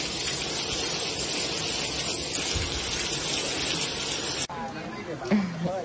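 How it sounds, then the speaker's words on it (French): Heavy storm rain pours down in a dense, continuous roar for several seconds, then cuts abruptly to a quieter scene with a voice speaking. "on s'est pris une tempête. Ça a été incroyable, un véritable déluge"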